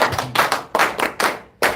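A handful of sharp, close hand claps in a loose rhythm at a gospel class, each one distinct with short gaps between them, loud and alone.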